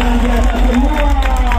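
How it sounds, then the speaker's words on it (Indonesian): A carnival crowd claps and cheers for a guest arriving at the honor stage in Sleman, a busy mix of applause and babbling voices with steady low rumble from the event's sound system. "tepuk tangannya buat PJ Hatar"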